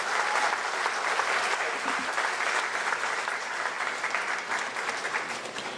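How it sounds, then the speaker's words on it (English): An audience at a teachers' association annual convention in Trinidad and Tobago claps steadily, a dense, even wash of many hands sustained throughout. "Could we give her a round of applause, please?"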